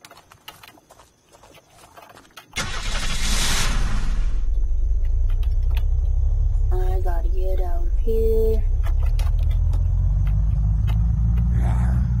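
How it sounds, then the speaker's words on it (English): A fast car drives in the survival video game Unturned, its engine a loud, steady low rumble that starts abruptly and holds to the end, with a person talking over it. "Nice fast car."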